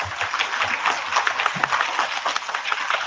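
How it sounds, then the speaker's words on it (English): Kindergarten children at a school awards assembly clap together, a dense close burst of applause with some excited voices underneath. "give yourselves a round of applause"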